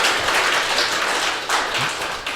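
An audience at a talk on healthy, happy living claps loudly together, a dense, steady wash of many hands sustained for a couple of seconds with no voices over it.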